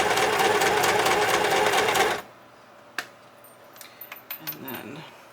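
Sewing machine stitching through altered playing cards for a junk journal, a fast, loud mechanical rattle that runs for about two seconds and then stops, followed by faint clicks and handling.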